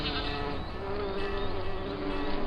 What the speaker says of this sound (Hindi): मधुमक्खियां कहां से आ गई?